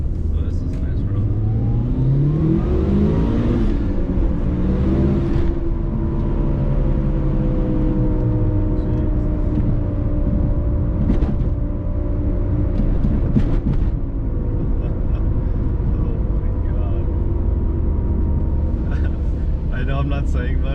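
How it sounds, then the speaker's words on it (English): A Mitsubishi Evo IV engine revs and rises in pitch as it accelerates, with road noise underneath and brief louder bursts along the way. "this car is just so fun to drive"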